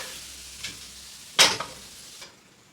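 Hot tempering poured into tomato dal, giving a sharp burst of sizzling that fades over a second or two after a few quieter stirring sounds.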